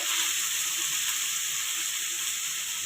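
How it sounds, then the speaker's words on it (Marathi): Steady, loud sizzling of bottle gourd sautéing in hot tempering oil, a continuous crackling hiss with no pauses and no voices. "आता भोपळा परतून घ्यायचा थोडा फोडणीमध्ये"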